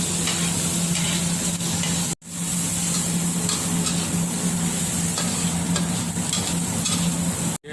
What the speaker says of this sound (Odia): ଆମର ପିଆଜ ଲଙ୍କା ଡାଲିଲେ ପୋଟଳ ତରକାରୀ ବନେଇବା ପାଇଁ ଦେଶୀ ଷ୍ଟାଇଲରେ।